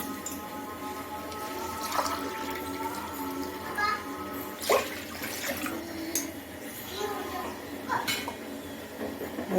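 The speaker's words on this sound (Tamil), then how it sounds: "1 டம்ளர் பால் ஊற்ற போகிறேன்." Milk poured from a tumbler into a pot of soaked rice and water while making traditional Pongal, a steady splashing trickle with faint clinks from the pot and kitchen vessels.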